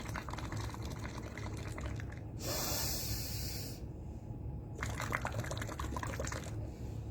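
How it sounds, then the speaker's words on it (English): Breath blown out through a tube into water during a breathing exercise, with bursts of bubbling gurgle broken by a hissing exhale and pauses, close and fairly loud, no talking. "So you have to blow out completely by making bubbles."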